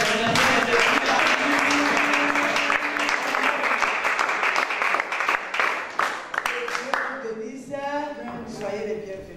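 A church congregation at a worship service cheers and applauds loudly in a dense, sustained wave that tapers off near the end, with voices calling out and singing beginning as the clapping fades.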